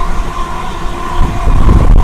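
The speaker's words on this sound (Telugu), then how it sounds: "సో ఆ ట్రైన్కి క్రాసింగ్ దొరకకుండా అయితే మన ట్రైన్ అయితే పరిగెత్తున్నాడు." Renigunta to Nellore MEMU passenger train running at speed, a loud steady rumble with a faint whine, heard up close from inside.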